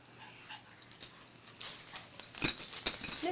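Dogs play-fighting in a dim room, with soft scuffling, pattering paws and panting breaths growing louder toward the end, close by and without talk.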